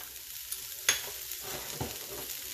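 Bacon being added to a frying pan gives a quiet, steady sizzle with a few sharp clinks and a scrape of stirring, heard close and alone.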